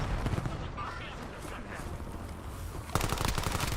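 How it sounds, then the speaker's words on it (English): Shotgun and other gunfire in the video game Call of Duty Warzone: dense, crackling shots in rapid bursts, with a louder, sharper volley near the end, set against a busy battle background. "Ooh, holy shotgun."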